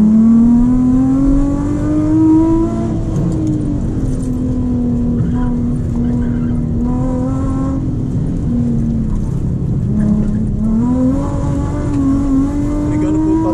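A Nissan 350Z lapping a race track fast, its engine droning loudly and steadily with rising and falling revs through the corners, heard close from inside the car.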